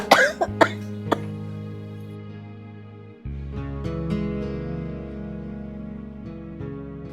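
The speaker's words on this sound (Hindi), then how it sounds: "खांसते खांसते पेट में दर्द हो रहा बहुत ज्यादा है।" An elderly woman coughs several times in quick, raspy bursts at the start, close to the listener, before soft background music takes over.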